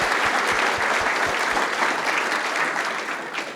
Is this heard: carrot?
no